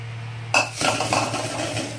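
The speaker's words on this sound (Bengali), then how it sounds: "দিয়ে ভালো করে নাড়াচাড়া করে নেব" Food stirred in a saucepan: after a brief quiet start, a sudden metallic scrape and clatter of a spoon against the pan, followed by repeated close scraping strokes over a low steady hum, no voices.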